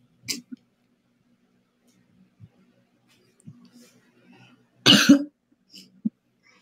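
A single harsh cough stands out near the end, preceded by a couple of quieter short coughs and small clicks in an otherwise quiet space.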